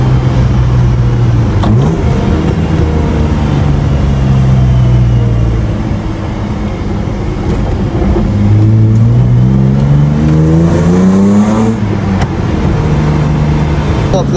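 A BMW E30 six-cylinder engine with a Supersprint exhaust revs hard, its pitch climbing and falling through several loud acceleration pulls, with a brief dip in the middle and a raspy exhaust note up close.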